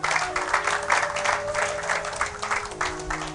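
A church congregation breaks into applause during a sermon, steady rhythmic clapping from many hands filling the room, moderately loud and even for the whole stretch, with no voices over it.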